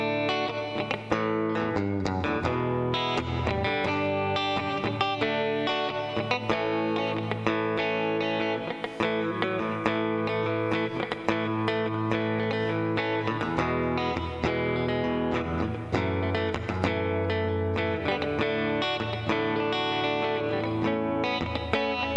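Electric guitar through a NUX Mighty Air amp plays chords and melodic lines with a clean, shimmering tone and noticeable reverb, steady and fairly loud throughout, no voices.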